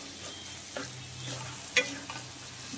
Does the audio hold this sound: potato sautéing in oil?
yes